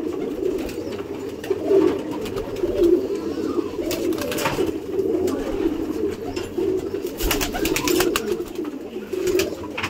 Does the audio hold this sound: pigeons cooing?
yes